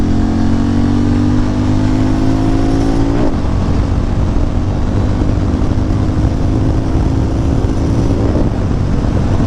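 A Harley-Davidson X440 or Hero Mavrick 440 engine revs at full throttle in third gear, its steady loud drone climbing in pitch and breaking off abruptly near the three-second mark before roaring on continuously to the end.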